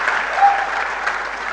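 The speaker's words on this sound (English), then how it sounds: "Please, a round of applause for her." Applause from an audience at a university maritime studies lecture, an even, continuous wash of clapping that holds steady for the whole stretch without any single claps standing out.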